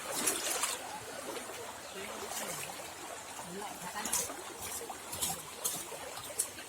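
A river flowing along the border of two villages and two districts near Kediri, under bamboo beside farm plots, gives a steady broadband rush and trickle, with people talking over it throughout.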